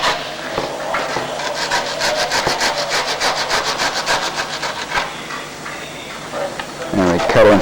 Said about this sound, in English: And we cut in from the top along the skin.